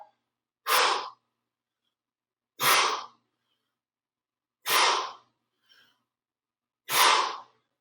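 Four forceful breathy exhalations, spaced about two seconds apart and separated by silence, each released at the top of a weight lift; close and clear, with one faint short sound between the third and fourth breaths.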